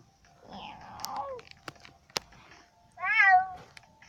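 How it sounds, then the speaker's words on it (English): A cat meows in a cat simulator video game: two drawn-out, wavering meows, one early and one near the end, with a couple of sharp clicks between them. "Okay, that one of the meows was not Sermon, but meow."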